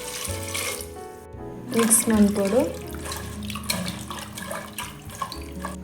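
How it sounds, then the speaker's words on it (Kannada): Water is poured into a pot of Brahmin-style sambar with onion, turmeric, tamarind water and jaggery, a short close splash and gurgle heard under a woman's speech. "ನೀರು ಪಾಡೋಡು"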